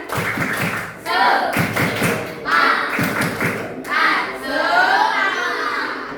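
Children and a teacher clap in rhythmic bursts during a classroom ice-breaking clap game, with short patterned groups of claps separated by brief pauses as voices chant along.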